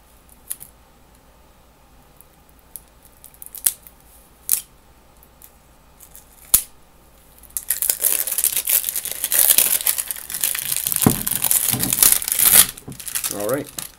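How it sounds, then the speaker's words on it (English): Plastic wrapping around a hot sauce bottle is cut open: a few faint snips and clicks first, then loud, close crinkling and tearing of the plastic, with a voice talking. "The whole bottle is encapsulated in plastic. So, I'm going to split it up the side here."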